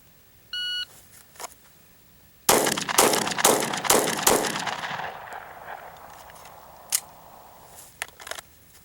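A Glock 19 Gen 5 pistol is fired in a timed drill from concealment. A short electronic start beep comes first, then a rapid string of about five sharp, loud shots that trail into echo, followed by a few fainter clicks.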